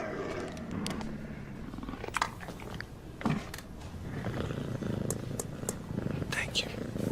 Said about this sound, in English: It's a puma.